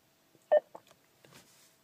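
A BMW X5 E53 voice command system sounds a short electronic activation tone in the car cabin, one brief beep followed by faint softer blips, quiet and alone without talking.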